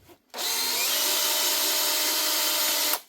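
A faulty Makita power drill with worn chuck jaws, set to low speed and drill mode, whirs steadily at close range for about two and a half seconds, then cuts off abruptly.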